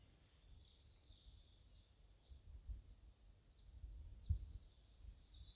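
Faint birds chirping high and thin in a quiet natural setting with no cars or people, short intermittent calls over a soft low background rumble.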